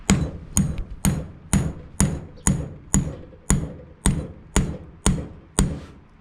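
Sharp hammer blows strike a lower door hinge pin on a Ford Escort II, twelve evenly spaced metallic hits about half a second apart, close and loud with ringing decay and no talking.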